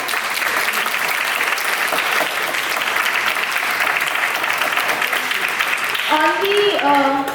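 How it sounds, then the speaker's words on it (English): Applause from a crowd at a Republic Day celebration at a medical college, dense and sustained clapping filling the whole stretch, with voices briefly rising near the end. "Huge round of applause for Rahul and Siddharth."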